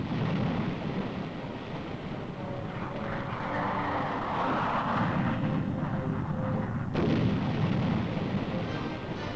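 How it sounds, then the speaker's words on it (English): A massive roaring napalm bomb explosion of jellied gasoline, with a deep, rumbling surge of fire that swells in the middle and shifts abruptly near the end. "This group is watching a version of the napalm bomb, jellied gasoline that cuts down everything in its path."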